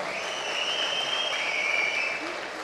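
An audience claps steadily at a Tamil movie audio launch, a dense, sustained wash of applause that fills the hall without pause.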